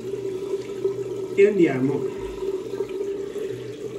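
Tap water runs steadily into a sink while a shaving brush is wetted and shaken out, a continuous faucet hiss under someone speaking Italian.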